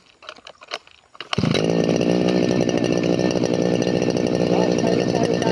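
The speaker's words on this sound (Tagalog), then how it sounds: "I-start na natin tong grass cutter para maumpisahan na natin." A grass cutter engine is pulled into life for clearing a plot for corn planting: a few rough tugs and sputters, then it catches and settles into a loud, steady, buzzing idle close by.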